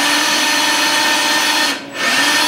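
A power drill whines loudly and steadily close by, dipping briefly near the end before spinning back up.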